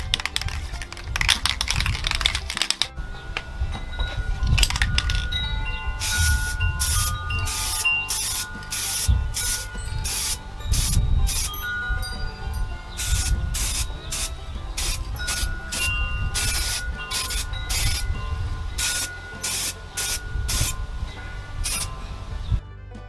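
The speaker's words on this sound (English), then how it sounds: "So now we're ready to start spray painting" Repeated short hissing bursts of spray paint in a steady rhythm, each lasting under a second, with brief pauses between.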